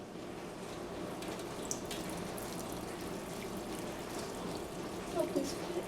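Water from a faucet pours steadily into a strainer of rice grains being rinsed, a continuous soft splashing with a few brief trickles and drips near the end, fairly faint and close.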